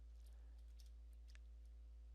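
Typing on the keyboard of a Dell Latitude 7350 laptop: a few sparse, faint key clicks over a steady low electrical hum.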